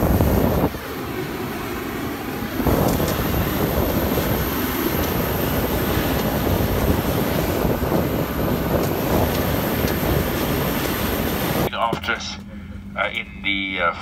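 Steady, loud broadband roar inside an airplane cabin during a flight to Cape Town, a continuous wind-like drone that shifts near the end, with a voice talking over it.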